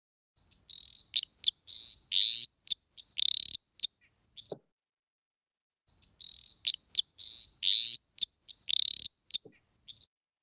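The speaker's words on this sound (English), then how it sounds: "another common frog, which is the eastern dwarf tree frog," Eastern dwarf tree frog, Litoria fallax, calling in two bursts, each a rapid series of sharp, high-pitched chirping pulses ending in a short creak, separated by a silent gap, close and clear.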